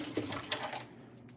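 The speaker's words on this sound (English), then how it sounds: "Let's top stitch." A sewing machine top-stitches a quilt in a brief, quiet burst of rapid mechanical stitching with a few faint clacks.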